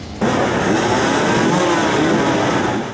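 A hard enduro motorcycle at a Ukrainian championship race revs loudly and steadily, a continuous close engine roar that begins abruptly and holds for a few seconds.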